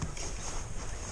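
A small motor boat speeding across lake water in a rush to help a fellow angler, with a steady rushing of engine, wind and spray that stays loud and constant throughout.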